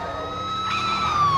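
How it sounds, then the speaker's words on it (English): A police car siren wails in a Gear VR Oculus game, Face Your Fears, with sustained tones that shift pitch slightly and grow a little louder over a low rumble. "Here comes the police car."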